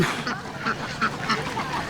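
A flock of ducks quacks repeatedly at a duck farm, a rapid overlapping run of nasal calls close by over faint background noise.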